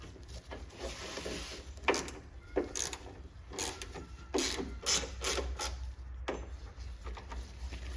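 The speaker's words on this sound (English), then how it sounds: "we need to remove the latch assembly here. We're going to use 240 Torx drive" A Torx driver works the door latch assembly free on the rear barn door of a Chevrolet Suburban GMT-800, giving a run of close, irregular ratcheting clicks and mechanical knocks over a steady low hum.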